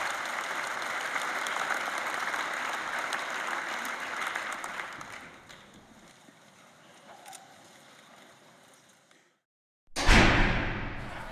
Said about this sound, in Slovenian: Aplavz za ekipo, prosim